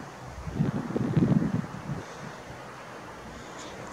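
Wind gusts rumble across the microphone in Kharkiv at night, swelling for a second or so, then easing into a quieter, steady outdoor hiss.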